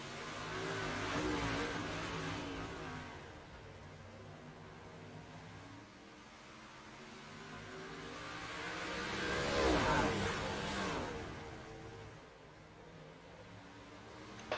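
Race cars battle for the lead, their engines swelling loud as the pack sweeps past, fading, then building to a second close roaring pass before easing off again.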